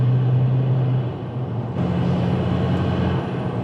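Turbo whistle and engine drone from a tuned L5P Duramax diesel pickup with a Whirly Custom Fab intake, a steady loud rumble with a faint rising high whine throughout and a dip and swell in power midway, no talk.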